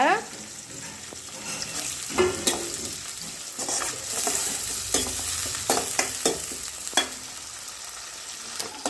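Steady sizzle of curry leaves frying in hot oil with scattered crackles and pops, a few sharp spatters standing out, close by with no talking.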